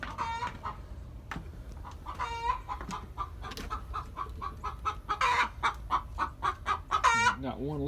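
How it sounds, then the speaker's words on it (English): Hens cluck in a hen house, with a busy run of close, loud clucks and squawks in uneven bursts and a brief low voice near the end. "If you can hear a chicken in here clucking."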